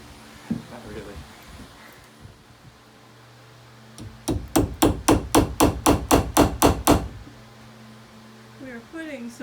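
Long nails are hammered into wood scraps along an edge to give drywall a nailing surface, a run of about a dozen evenly spaced, sharp ringing blows, close and loud, with quieter taps and a voice around them.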